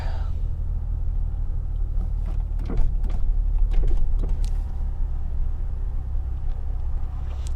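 2006 Infiniti G35 coupe with VQ35DE engine and Z1 touring exhaust driving, a steady low exhaust drone heard from inside the car with a few brief rising revs and clicks over the rumble.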